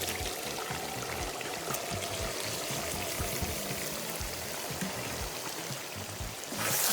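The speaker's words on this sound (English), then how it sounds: "It's all set now, so the beans go in." Black-eyed peas poured into a simmering stew, making a steady, continuous rushing pour that runs for several seconds without pause, close and moderately loud.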